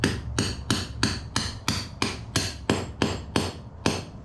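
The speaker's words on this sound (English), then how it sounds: "And then we can hammer the final nut on the other side." A hammer taps a metal boat trailer roller cap about a dozen times in a steady, even rhythm, each strike sharp and close with a brief ringing decay.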